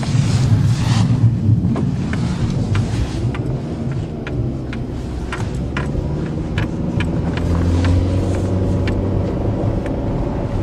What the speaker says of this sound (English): Nothing but spinning on the tires.